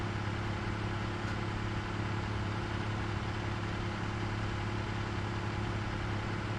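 A fuel generator in the Satisfactory video game runs with a constant, dense, tractor-like engine drone, steady and unbroken throughout with no other sounds.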